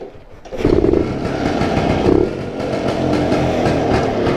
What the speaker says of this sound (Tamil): 2 ஸ்ட்ரோக் இன்ஜின் சவுண்டு வந்து எப்போவுமே அல்டிமேட்டாக தான் இருக்கும்.